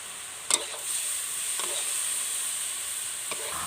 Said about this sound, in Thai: เราใส่น้ำลงไปหล่อหน่อยนะคะ เพื่อต้องการเคี่ยวตัวสามชั้น ให้น้ำมันของเขาออกมาข้างนอกเคี่ยวให้งวดนะ